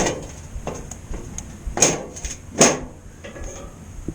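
A metal grate for a smoker is grabbed and set down, giving a few sharp clanks and knocks close by, with two louder metallic hits near the middle, at a grill during pig candy preparation.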